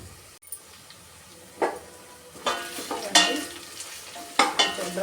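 Prawns frying in a pan until browned, with bursts of sizzling and stirring scrapes that swell and fade in several strokes, close and fairly loud with no talk.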